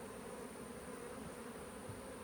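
Honey bees buzz steadily around a beehive entrance in a beeyard, a faint continuous drone of many insects with no break.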